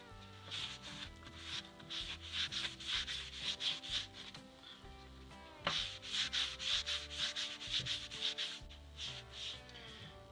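A non-abrasive scrubby pad scrubbing heavily rusted metal, close rhythmic rasping strokes in quick back-and-forth bursts, with a brief pause midway before the scrubbing resumes, over faint background music.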